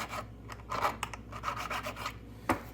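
A sharp feather edge file rasps over a metal crossing casting to deburr its flange bays, making quick, close, irregular scraping strokes, about a dozen short bursts with brief gaps between them.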